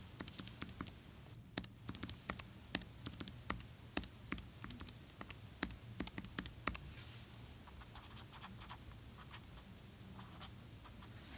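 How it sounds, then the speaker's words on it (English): Numbers being typed on a calculator, a quick irregular series of faint close plastic button taps over quiet room noise, with the taps thinning out toward the end. "Type all this in the calculator and then divide by 360."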